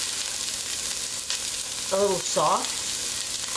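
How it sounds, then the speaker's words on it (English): Onions sautéing in avocado oil for tomato and roasted red pepper soup, a steady broadband sizzle close by that runs throughout, with a brief spoken phrase partway through. "Then we put our onions in and let them saute"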